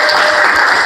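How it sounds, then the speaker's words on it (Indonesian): Classroom applause for group 3 after their presentation in a teacher-training lesson: a full, steady burst of many hands clapping together, close and loud across the whole second. "Beri tepuk tangan untuk"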